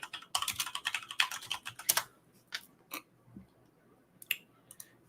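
Rapid bursts of typing on a computer keyboard, close and crisp, with a dense run of keystrokes followed by a few scattered taps and a brief pause.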